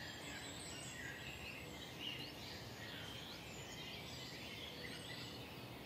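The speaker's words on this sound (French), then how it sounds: "J'ai entendu un pipit des arbres" A tree pipit sings out in the countryside, faint thin chirps drifting over a soft, steady hiss of open-air ambience with insects, distant and quiet, no voices.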